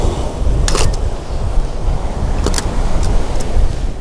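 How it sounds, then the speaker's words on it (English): Ocean waves wash onto a Greek shore in a steady roaring rush, with gusts of wind buffeting the microphone and a couple of brief hissing bursts as water breaks close by. "Waiting for the next batch of waves."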